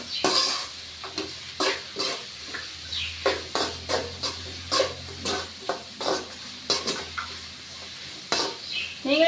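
Egg rice being mixed in a sizzling pan, with a rhythmic run of a dozen or more spatula scrapes and taps over a constant hiss of frying, close and fairly loud, without speech.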